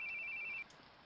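Cell phone ringing in the video game Your Toy, a thin electronic tone pulsing in quick repeated beeps for about half a second before cutting off, leaving a quiet background hum.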